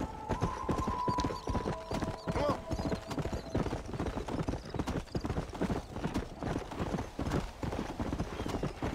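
In Red Dead Redemption, a horse's hooves pound in a fast, steady galloping rhythm throughout, loud and close, while someone speaks over the clatter.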